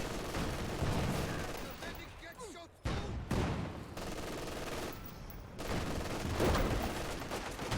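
MG42 machine gun fire in a World War II real-time strategy match, rattling bursts and explosions blended into a dense battle din, with a commentator talking over the fighting.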